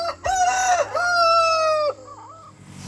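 A rooster crows one long, loud cock-a-doodle-doo near the listener, and a chicken clucks briefly before and after it, in a small backyard flock of about a dozen chickens.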